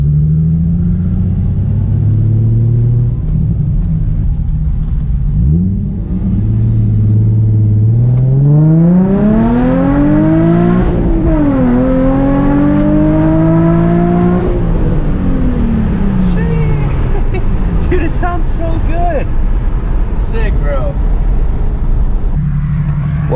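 A Nissan 350Z HR fitted with a full titanium Tomei exhaust idles, then revs and pulls away, its tone sweeping up and down through several gear changes before fading, loud and close with no talk.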